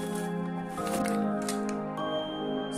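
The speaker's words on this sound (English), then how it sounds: "Then I pour my strawberry." Strawberries for a strawberry daiquiri tumble into a blender, giving a few soft, squishy thuds spread over a couple of seconds against a steady background hum.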